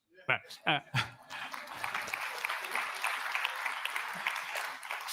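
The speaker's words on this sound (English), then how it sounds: "Now, big applause." Audience applause after a talk at a CERN engineer's presentation, starting just after a few short spoken words and then swelling into steady, dense clapping that fills the room and holds to the end.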